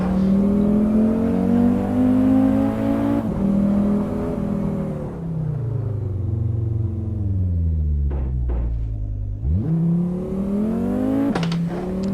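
A Golf Mk7 engine in the racing game Assetto Corsa drones loudly, its pitch rising then dropping with gear shifts, a couple of brief sharp clicks breaking the steady roar.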